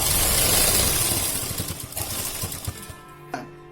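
Sewing machine stitching salwar fabric, a loud steady mechanical whir that slows and breaks into quick rhythmic stitching bursts before stopping with a final clack.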